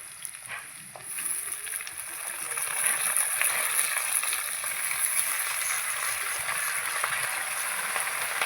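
Spinach is dropped into a hot pan of fried potatoes, and a steady, bright sizzle builds and holds close up, hissing and crackling evenly throughout.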